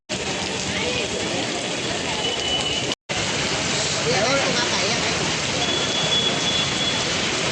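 Steady rain pouring down at an outdoor fair in Gujarat makes a dense, continuous hiss close by. It breaks off for a split second and then resumes just as heavy.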